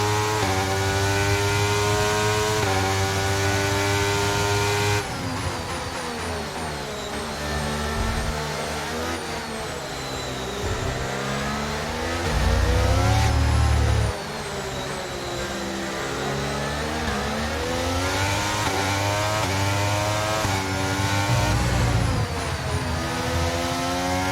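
Formula 1 car engine in the F1 23 game at the Mexico race, a loud sustained high-pitched whine with gear shifts and rising and falling revs throughout, reported to be running strangely.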